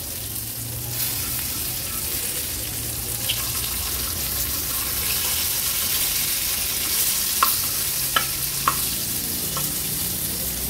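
Pieces of karli fish fry in oil on a flat tava over a gas flame, giving a continuous broad sizzle at a steady level. A few sharp clicks from a utensil come late, and no one speaks.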